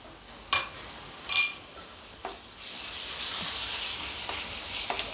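Ginger-garlic paste drops into hot oil with stuffed brinjal masala for Vidarbha-style bharli vangi, giving a couple of spoon clinks and scrapes before a steady, bright sizzle swells and holds close by, with no talking.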